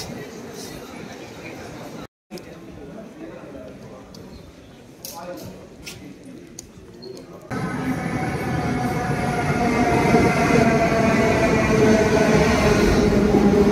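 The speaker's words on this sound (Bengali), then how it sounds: "এবার এখান থেকে ট্রেন ধরবো, মানে মেট্রো।" A metro train arrives at an underground platform in Istanbul. A low rumble rises and grows louder and steadier through the second half, and faint voices are heard beneath the noise.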